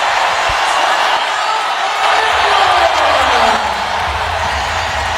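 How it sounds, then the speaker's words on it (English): A basketball arena crowd at a women's pro game roars loudly and steadily, a dense wall of cheering with a brief dip and swell, the odd ball bounce faintly beneath. "this crowd's going to let her hear it"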